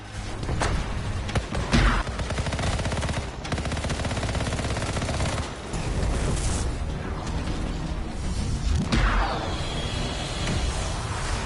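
Scar enemies in the shooter game Anthem firing guns: dense, continuous bursts of rapid automatic gunfire with sharp crackling shots and occasional louder blasts, loud and close throughout, no voices.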